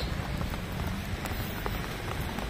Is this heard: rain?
yes